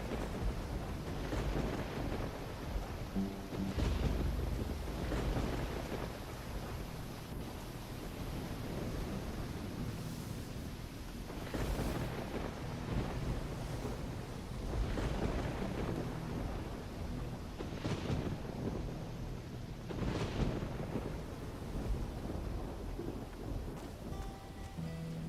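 A thunderstorm in the video game Risen: steady heavy rain hiss with repeated rolling thunder bursts every few seconds, loud and close, no speech.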